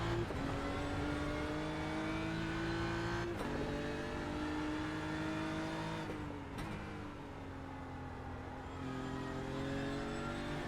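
GT3 race cars, BMWs and Porsches, racing at the Nürburgring GP circuit, engines roaring steadily with rising and falling pitch as cars accelerate down a straight and shift gears, loud and continuous throughout.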